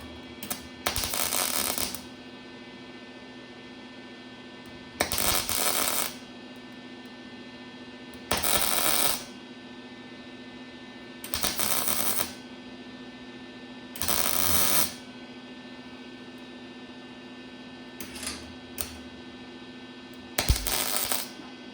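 Tack welds laid on a 1951 Chevy 3-window truck: five loud bursts of crackling arc, each about a second long, spaced a few seconds apart, then a couple of short faint pops, over a steady hum.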